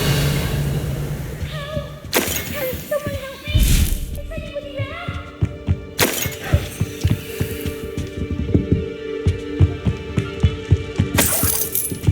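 Revelio spell cast in Hogwarts Legacy, sharp bright magical bursts with shimmering tones, followed by rhythmic thumping pulses and a low hum, repeated flashes standing out clearly.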